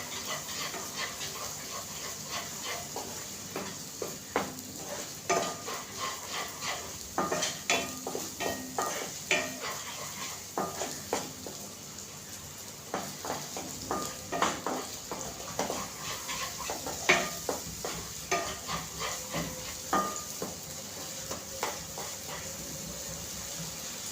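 Masala for a paneer curry fries in oil while a spoon stirs it, giving a faint low sizzle under a steady run of rhythmic scraping and tapping against the pan, with no talking.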